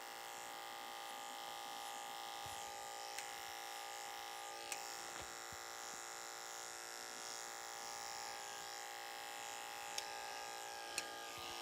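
An electric hair clipper buzzes steadily and continuously while cutting hair at the back of the neck for a pompadour cut, a close, even whine with a few faint clicks.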